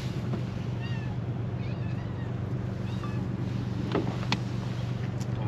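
Cats meow a few times, short and faint, near a fishing boat at Silivri, under steady wind and water noise.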